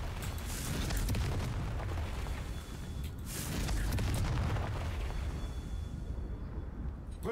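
Explosive Confringo fire spells in Hogwarts Legacy burst into deep, booming blasts that swell twice, around the first and fourth seconds, over a continuous loud rumble before easing off.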